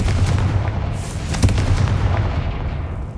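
In the video game Hogwarts Legacy, a Confringo fire blast spell erupts as a loud, sustained roaring explosion with a sharp crack in the middle and a rumbling low end that fades slowly.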